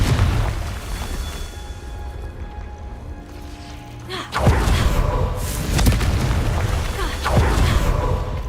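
Confringo fire spell explosion in Hogwarts Legacy, a sudden loud blast followed by crackling, rumbling fiery bursts that continue for several seconds after a tonal magical buildup.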